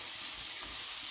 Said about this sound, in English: So we are going to stir